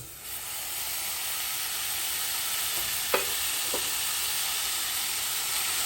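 Ground beef sizzles in a preheated pot with a loud, steady frying hiss that fills the whole stretch, broken by a couple of brief clinks from stirring.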